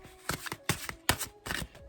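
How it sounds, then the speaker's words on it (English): Tarot cards are shuffled in quick bursts, four or five crisp riffling flutters spaced about a beat apart, close and fairly quiet, with no talk during them. "I'm just shuffling them while I'm speaking to you"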